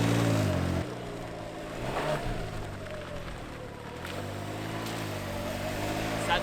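A Can-Am Ryker 900 three-wheeler drives and drifts, its engine drone steady and fairly close, with rising and falling revs and a brief throttle burst near the start.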